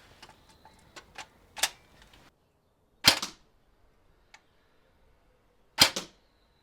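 A Cyma MP5A3 airsoft replica fires 0.25 g precision BBs during a 10 metre accuracy test: three sharp, isolated snapping shots spaced a few seconds apart, with faint clicks and handling noise before the first.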